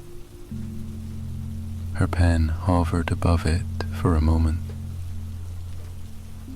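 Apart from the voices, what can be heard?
rain falling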